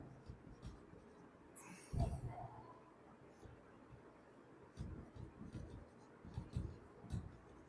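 A formula is handwritten on a surface during a physics lesson on series resistors, with soft scratchy strokes coming in short bursts amid room noise and a brief voice.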